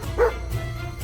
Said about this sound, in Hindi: ओह नहीं, उनके पास रखवाली के लिए कुत्ता है।